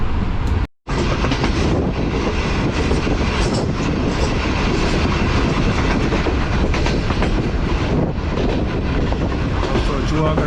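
Heard from inside a railway guard compartment on an Indian train, the carriage rumbles and clatters loudly and continuously as another train crosses it at a station, with dense rhythmic wheel noise and a brief dropout early on.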